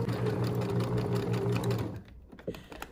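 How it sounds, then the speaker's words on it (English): Sewing machine running steadily at a continuous hum while stitching seams with an overcast finishing stitch on stretch fabric, the motor cutting off near the end, followed by a few faint handling clicks. "Now when you reach in an area where you have to sew 3 to 4 seams together, you have to take your time because the needle can break"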